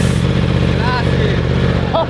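Racing motorcycle engine running in a limited power map, a loud steady drone with harmonic rumble filling the clip from start to finish.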